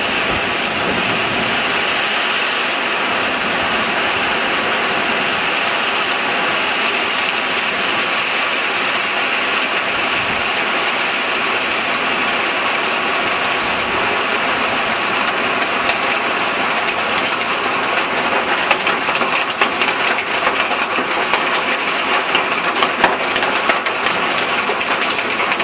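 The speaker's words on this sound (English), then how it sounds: "That is called hail." Hail pelts a backyard during a tornado storm, a dense, loud, unbroken clatter of stones hitting surfaces with scattered sharper impacts standing out toward the end.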